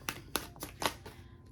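Cards shuffled by hand during a tarot reading, four or five quick riffling bursts in a short close-up sequence, fairly soft.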